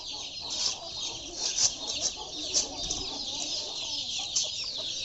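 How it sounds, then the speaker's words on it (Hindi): Aseel fighting roosters cluck and squawk repeatedly amid a busy farmyard din, with several sharp calls standing out over steady background noise. "ये हैं जी सील मुर्गे जिनके साथ लड़ाई की जाती है"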